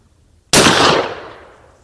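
A single loud gunshot from a Rossi Brawler handgun firing Grizzly .45 Long Colt ammunition, a sharp crack after a moment of quiet that rings out and decays over about a second.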